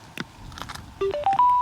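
A Sena 10C Evo motorcycle headset powers on close to the microphone, giving a few soft clicks and then a rising series of four short electronic tones, each higher than the last.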